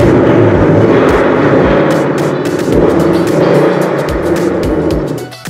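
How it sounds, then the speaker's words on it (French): A 2022 Ford Mustang GT Premium's 5-litre V8 with automatic transmission roars loudly and steadily, with a deep, rumbling exhaust note and rapid crackling pulses throughout, then cuts off near the end. "sous le capot un moteur 8 cylindrés de 5 litres"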